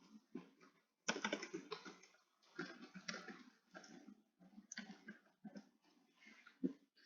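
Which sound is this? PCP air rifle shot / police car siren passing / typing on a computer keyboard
typing on a computer keyboard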